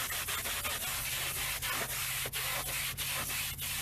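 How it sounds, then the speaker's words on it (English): A brush scrubs a car's door sill in short, brisk back-and-forth strokes, a steady close-up bristly rasp with no voices. "this area here, just a little bit of scrubbing"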